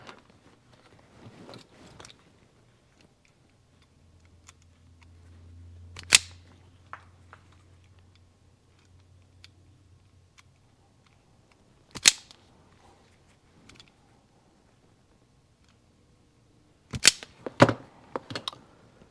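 Cutters snipping through wires on a Suzuki TS250 motorcycle harness, a few sharp isolated clicks spaced over quiet stretches with faint handling noise, ending in a quick cluster of snaps.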